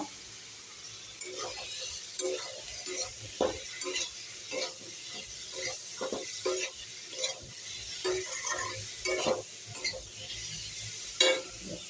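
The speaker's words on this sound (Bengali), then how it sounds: "দিয়ে কিছুক্ষণ কষিয়ে নেব।" Fried potatoes are sautéed with ground spices in a pan, a soft sizzle under repeated scraping stirs of a spoon, fairly quiet and close, with no voice.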